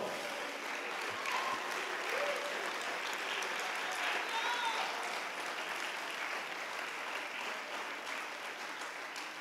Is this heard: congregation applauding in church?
yes